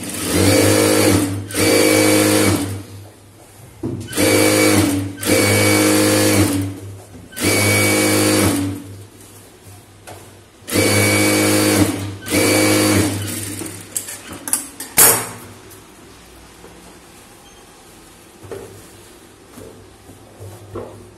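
Sewing machine stitching a chudithar top, running in several loud bursts of a few seconds each with short pauses between, then fading to quieter handling noises.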